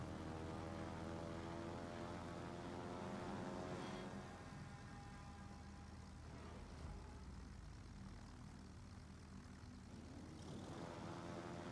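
Missile strike aircraft in the PC naval battle game World of Warships give a steady droning engine roar that holds at moderate level for several seconds, with no talking.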